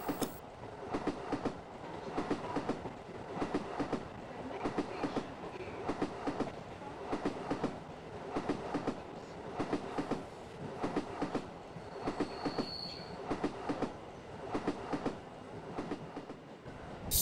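Local train on the Barasat–Hasnabad line rolling along rails, a steady loud rumble inside the carriage with regular clickety-clack wheel beats throughout and a brief faint squeal partway, no voices.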